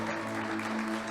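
A church congregation applauds in a steady, dense patter of clapping that fills the room, with a low tonal hum under it.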